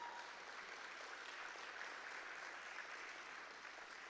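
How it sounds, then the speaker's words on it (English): Very faint, steady audience applause at an agri-business investment forum, continuous distant clapping with no speech over it throughout. "big round of applause"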